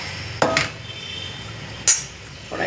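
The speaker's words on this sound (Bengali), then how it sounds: "এবার আমি প্রথম ঢেঁড়সটাকে ছোটো ছোটো কেটে এই যে দিয়ে দিচ্ছি কড়াই" Chopped okra tipped into a wok over mustard oil, onion, chilli, salt and turmeric, giving two sharp clattering knocks of spoon against metal with quiet pauses between.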